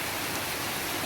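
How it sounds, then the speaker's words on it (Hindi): Heavy rain pours at night in India, a dense, loud, even hiss of falling water with no breaks or voices. "देखिए कितनी बारिश हो रही है, इसका साउंड सुनिए"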